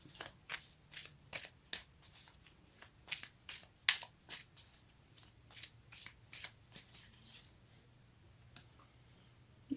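Tarot cards being shuffled and drawn, a quick series of crisp riffling and flicking bursts in an uneven rhythm, close and fairly quiet.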